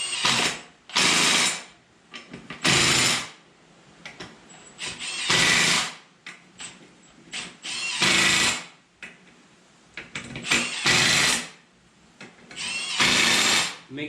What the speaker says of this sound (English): I'm just running them down with my impact gun